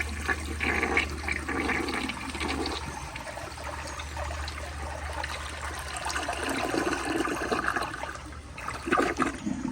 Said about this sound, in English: Very nice flush, and I honestly really like the swirl.